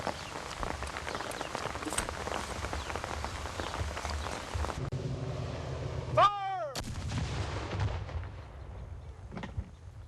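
A historical artillery unit fires a cannon, giving one sharp, heavy boom amid outdoor crowd noise, followed by a long rumbling decay and a few scattered later pops.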